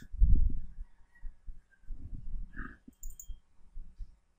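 A computer mouse clicking at a desk, a few distinct clicks spread out over a span of low quiet background noise, close and fairly crisp.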